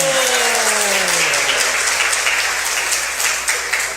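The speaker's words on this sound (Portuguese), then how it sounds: "com uma salva de palmas bem calorosa, Shibuya-san." Warm audience applause at an evening church gathering: dense, loud clapping from a crowd filling the room, sustained and steady before slowly thinning toward the end, with a tone sliding down underneath at the start.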